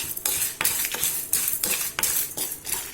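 Toor dal and dried red chillies dry-roasted in a kadai, a metal spoon scraping and stirring in rhythmic strokes about every half second, the grains rattling and clinking against the pan close by.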